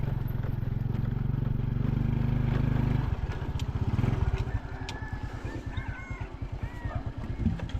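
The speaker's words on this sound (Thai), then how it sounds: "ตอนนี้ก็ บอลังก็ขี่รถขึ้นมาฮอดกลางบ้านด้วยเนาะ" A motorcycle engine putters close by as it rides up to a house, a loud steady drone that breaks into a lumpy idle, while geese honk in the background.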